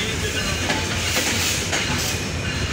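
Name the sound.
Nilsagar Express train arriving at Birampur station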